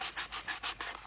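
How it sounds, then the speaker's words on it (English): Gesso rubbed all over a metal mint tin, heard as six quick, even strokes of close, dry rubbing in a steady back-and-forth rhythm, with no voices. "You just want to really rub it well all over."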